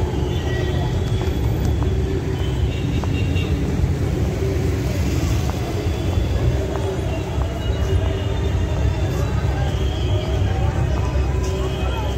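Street traffic heard while crossing a road outside a large mall, a loud continuous roar of passing vehicles and engine rumble filling the whole stretch, steady and close with no clear voices.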